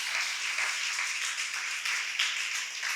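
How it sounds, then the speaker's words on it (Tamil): A church congregation at a Tamil worship service claps and cheers together, a dense, sustained wash of many hands applauding at once, lively and continuous throughout. "நல்லா கையை தட்டி ஒரு சந்தோஷமா ஆரவாரம் பண்ணலாமா?"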